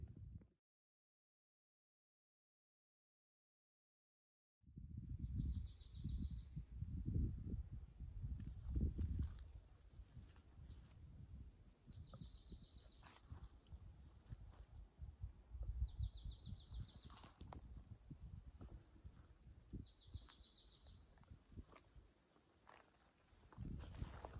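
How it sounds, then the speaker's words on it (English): Birds sing in repeated high, short phrases at intervals on a morning along the Appalachian Trail, while the hiker's footsteps and rustling movement stay close and steady beneath them. "The birds are really active this morning."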